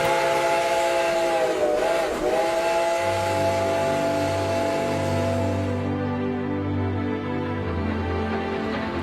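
Steam locomotive on the White Pass and Yukon Route Railroad sounding its whistle, a loud, sustained multi-tone chord that dips briefly in pitch before holding steady, with the low chuff and rumble of the train underneath.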